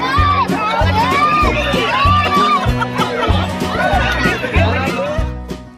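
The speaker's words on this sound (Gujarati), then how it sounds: "તેમના સમર્થકોની ભીડ જામી ગઈ" A crowd of political supporters jostles for snacks at an election rally, a dense, lively din of many shouting and laughing voices, with steady thumping music beating underneath.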